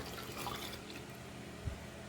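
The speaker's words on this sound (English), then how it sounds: "we will add water to this" Water poured into a pot of Goan pearl spot fish curry, a soft continuous splashing pour that fades away, then one small plop near the end.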